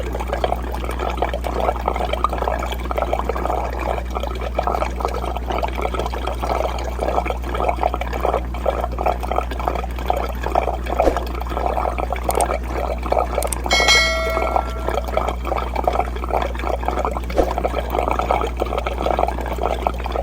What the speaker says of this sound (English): And as we turn the water up more and more, it'll have an increase in flow.